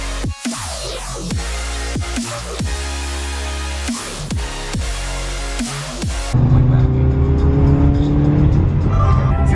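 A turbocharged Honda S2000 engine revving hard in repeated loud rising sweeps with quick drops between them, then settling into a steady, strong drone heard from inside the car.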